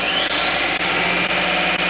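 A Grizzly 2x42 belt sander runs steadily at full speed, a loud close whining motor drone with a high belt whir and faint rhythmic ticks from the belt seam.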